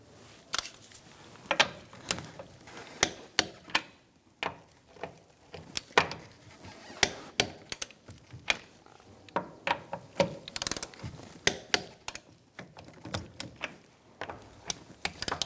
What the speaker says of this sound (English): We're going to torque our wheels to 85 foot-pounds in a star-like pattern.